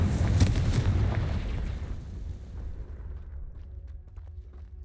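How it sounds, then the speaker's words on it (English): The Confringo spell in Hogwarts Legacy goes off as a loud, close explosive boom at the start, then a long rumbling decay that fades out over several seconds. "Confringo."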